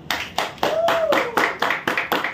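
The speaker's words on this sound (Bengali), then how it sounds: "মিতা ধর, হাততালি।" A small group at a theatre gathering claps for a prize winner, producing a handful of distinct, rhythmic hand claps, fairly close and moderately loud, with a brief whistle-like tone running under them.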